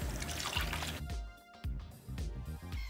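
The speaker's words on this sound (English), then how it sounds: "We're going to add our half and half." Half and half poured into whisked eggs for French toast custard, a soft close trickle and splash of liquid with brief drips, heard alone.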